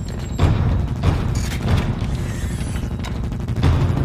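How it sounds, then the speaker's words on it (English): Gunfire in a loud action movie scene in a hallway, several heavy booming shots and impacts over a dense rumbling score, with no talking. "Hallway, six men, shots fired."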